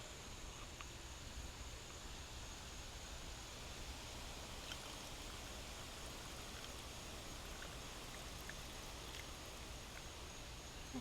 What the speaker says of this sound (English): let's pour our Pina colada tea